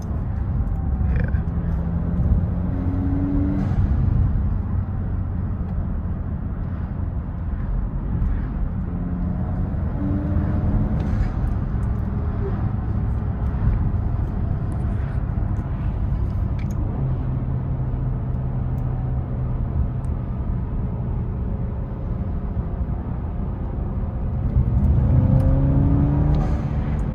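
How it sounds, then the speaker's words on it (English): Inside an Alfa Romeo Giulia, the 4-cylinder engine hums and rumbles steadily as the car accelerates, with occasional rising engine tones over constant road noise. "For a 4-cylinder, it's really torquey, you know. Feel the power."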